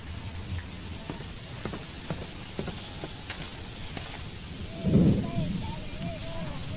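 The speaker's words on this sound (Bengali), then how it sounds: "বৃষ্টি পড়ছে।" Rain falling in the Ecuadorian jungle, a soft continuous patter with scattered drips and a louder rumbling burst midway, heard alone.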